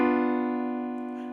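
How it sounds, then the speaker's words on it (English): A single diminished chord struck on piano rings out alone, with its sustained tones slowly fading over about a second. "So let me play you first the diminished chord."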